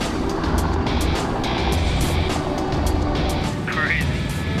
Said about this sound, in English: I've never been up in a helicopter before